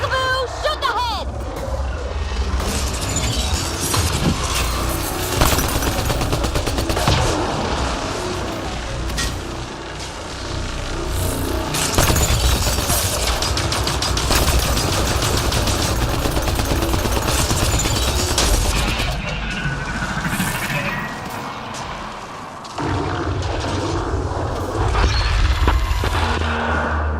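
Continuous sci-fi firefight from Mass Effect Andromeda, with dense gunfire and explosions roaring steadily for the whole stretch, loud and close, while voices talk over the battle.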